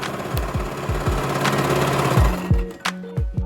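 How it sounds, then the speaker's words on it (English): A sewing machine runs a straight stitch at its widest setting along a men's shirt sleeve near the hem, its motor thumping in quick bursts and short runs that stop and start several times, close and fairly loud. "using the widest stitch, sew a straight stitch 1/4 to 1/2 inch from the sleeve hem"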